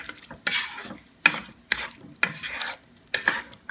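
Frozen mixed vegetables are sautéed in a pot, with repeated bursts of sizzling as a spoon stirs and scrapes through them in an uneven rhythm. The sound is close and clear, with no talking.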